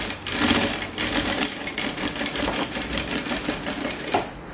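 A sewing machine backstitching binding onto a fabric placemat, a fast close rhythmic rattling hum of the needle running continuously before stopping abruptly at the end.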